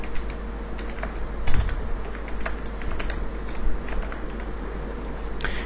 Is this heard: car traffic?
no